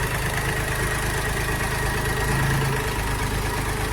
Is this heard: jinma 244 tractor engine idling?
yes